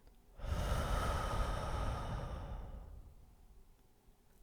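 One long, deep breath exhaled slowly and softly during a guided breathing exercise, a breathy rush that begins abruptly, holds for about two seconds and then fades into quiet.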